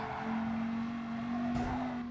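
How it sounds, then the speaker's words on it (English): Race car engine in a racing video game on the Dragon Trail Gardens circuit, a steady droning hum holding one pitch, moderately faint and without talking. "I love the sound of the car as well"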